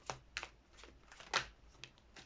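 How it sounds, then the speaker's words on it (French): Tarot cards drawn and laid down one at a time, a few soft, close flicks and slaps of card separated by short quiet gaps. "on fait tomber 3 cartes"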